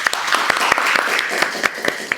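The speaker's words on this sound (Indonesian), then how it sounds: "Mantap sekali, tepuk tangan dulu buat kalian." Students applaud in a university teaching session, a steady wash of clapping with a few sharper claps standing out over roughly two seconds, fairly close and moderately loud.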